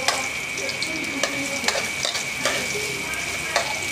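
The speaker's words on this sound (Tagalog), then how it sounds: "At isusunod na natin yung luya guys para bumango ang ating niluluto." Ginger frying in a pan for chicken adobo gives a steady, close sizzle, with occasional light clicks as it is stirred.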